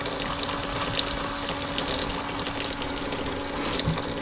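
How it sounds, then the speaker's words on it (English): Pink RV antifreeze runs from a camper travel trailer sink faucet during winterizing, a steady, continuous rush of liquid with a faint pump hum underneath, no talking. "We're gonna wait until each sink starts coming out pink."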